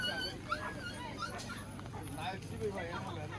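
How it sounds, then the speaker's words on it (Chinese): A corgi puppy whimpers and yips at a bustling pet market, with thin high whines repeating under nearby chatter and market noise. "小柯基"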